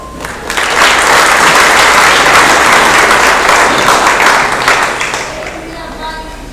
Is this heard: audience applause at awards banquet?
yes